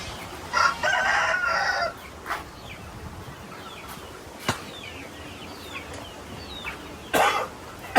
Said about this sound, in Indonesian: Ini ayam Elba Pak.